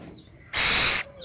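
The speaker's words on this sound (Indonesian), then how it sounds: "ini dia burung kelepuk" Scops owl calling: a single loud, harsh hissing screech lasting about half a second, standing alone against a quiet background.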